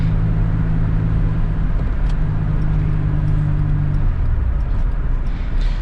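A 1997 Toyota Tacoma pickup with a five-speed manual gearbox drives along, its steady engine drone and road rumble loud and close throughout, with low engine tones shifting pitch partway through.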